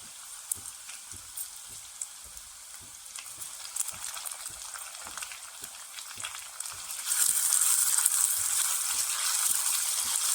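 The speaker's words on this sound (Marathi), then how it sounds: "लसूण लालसर झाला तर त्यात आपण टॉमॅटो घालून घेऊ" Tomatoes tipped into hot oil with crushed garlic and ginger in a wok, a steady close sizzle that flares louder and brighter near the end, with soft stirring taps beneath and no talk.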